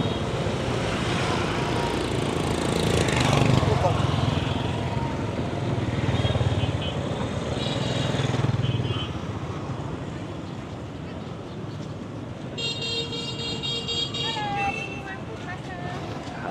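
Motorbike engines stream past on a crowded bridge and busy street in Hoi An's old town, a continuous droning buzz that swells and fades as bikes pass close, set against crowd chatter and wind.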